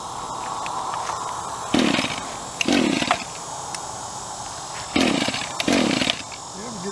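An Echo SRM225 brush cutter, fitted with a big blade and no guard, revs up in two pairs of short roaring bursts as it cuts into weeds, with a voice heard over the idling engine.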